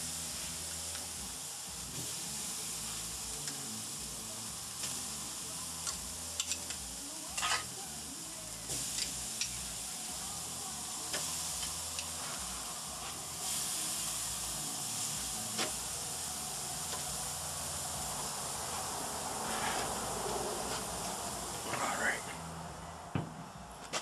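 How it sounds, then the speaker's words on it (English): Fat center-cut pork chops marinated in Dale's seasoning sizzle steadily on a hot grill, a continuous crackling hiss with scattered pops while a voice murmurs faintly underneath. "Got the grill fired up, and I've got some nice fat center cut pork chops marinating away in some Dale's seasoning. I'm gonna get those on."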